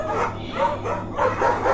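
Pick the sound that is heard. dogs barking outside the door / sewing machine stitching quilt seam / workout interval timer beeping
dogs barking outside the door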